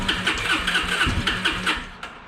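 Starter cranking on a 2005-2007 Yamaha Grizzly 125cc ATV, a steady rhythmic churn of repeated pulses close by that never catches, then cuts off abruptly near the end.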